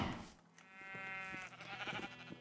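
Sheep bleat in the Minecraft video game near a farm pen, giving a wavering, quavering animal call over a busy, fairly quiet background with no talking.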